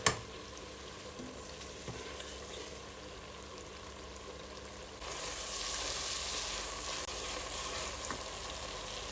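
Ingredients for mash dal frying steadily in a pan, a continuous sizzle that grows louder and brighter about halfway through, with light stirring scrapes and no talking.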